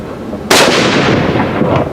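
A single close, loud rifle shot from a .416 Ruger firing a Barnes 350-grain TSX-tipped load at an outdoor range, a sharp blast followed by a long rolling echo that fades slowly.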